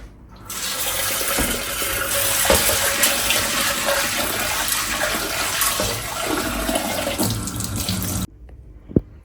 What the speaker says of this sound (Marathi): आता मी ह्याला ना छान वॉश करते